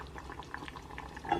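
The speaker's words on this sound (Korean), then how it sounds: "약불인데 왜 이렇게 팔팔 끓는 건지 모르겠어요." Chicken stew boiling hard in a pot over low heat, a steady close simmer of small popping bubbles running through a brief stretch with no voices.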